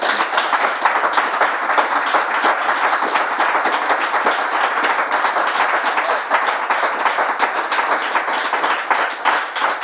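An audience gives a dense, steady round of clapping that goes on without a break for about ten seconds, loud and close, with no voices rising above it.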